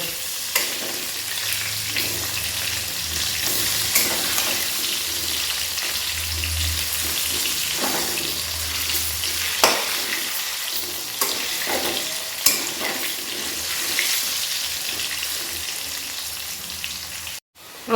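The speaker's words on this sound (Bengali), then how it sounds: "এইভাবে দু পিঠ লাল লাল করে ভেজে আমি আলুগুলোকে তুলে নেবো" Potato pieces fry in hot oil in a pan and get turned over. A steady, dense sizzle runs close and loud throughout, with occasional scrapes and small bursts as the pieces are moved.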